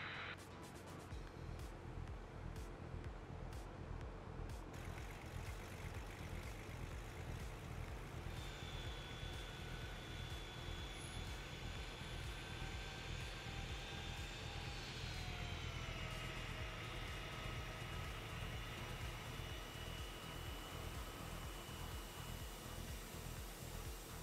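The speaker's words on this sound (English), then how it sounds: "Hear the engines wind up." Aircraft engines spool up for takeoff in the Tower Simulator 3 air traffic control game, a loud sustained whine climbing steadily in pitch over a constant engine roar.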